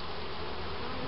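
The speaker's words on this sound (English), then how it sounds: "These are very nice bees." Bees buzzing steadily around an open beehive during a July hive inspection, a dense, continuous drone close by with no voices over it.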